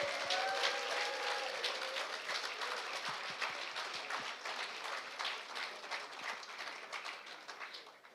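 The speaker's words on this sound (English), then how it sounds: "Give him a round of applause." An awards gala audience applauds an honoured Royal Air Force air marshal. Dense clapping fills the room at moderate volume and slowly thins as it goes on.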